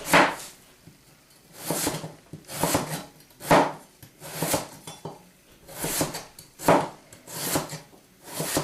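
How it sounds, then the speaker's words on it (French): A knife slices yam thinly on a board for a gratin, giving a regular series of close, crisp cuts, each one a short scrape that ends in a knock on the board, about once a second. "on coupe assez finement l'igname, aussi épaisse que les pommes de terre"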